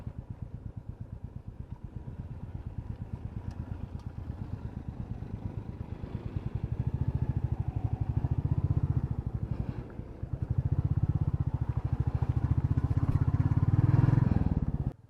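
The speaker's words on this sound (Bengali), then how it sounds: "এখন আপার ড্যামের ওপর দিয়ে বাইক নিয়ে যাচ্ছি" A motorcycle rides over the Purulia upper dam after rain, its engine a steady low drone that swells louder toward the end, with faint rattling over it.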